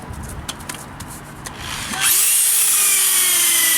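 Power sander wet-sanding a hazy car headlight lens, spinning up after some faint handling noise into a steady, loud high whine that holds at moderate speed, close by.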